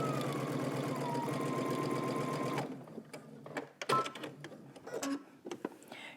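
A sewing machine understitching along the edge of a garment pocket runs in a steady close whir for about two and a half seconds, then stops, followed by light handling clicks and fabric rustle.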